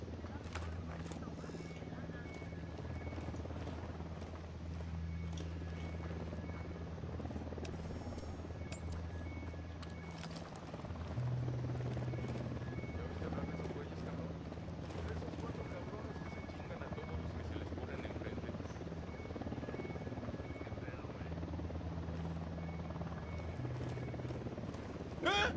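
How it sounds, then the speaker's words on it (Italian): A helicopter in the video game Ghost Recon Wildlands drones with steady low rotor thrum throughout, while players talk over it continuously and other game sounds mix in. "Elicottero in arrivo."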